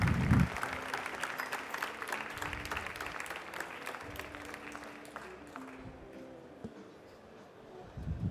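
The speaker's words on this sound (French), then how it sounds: "on l'applaudit bien fort pour les espressos qui viennent d'être servis" Moderately loud audience applause follows espressos just served at a barista championship; the clapping is steady, then thins and fades toward the end.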